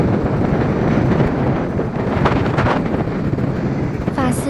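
Strong wind roars and buffets across the microphone while riding an electric scooter, a dense and constant close rush with no talking.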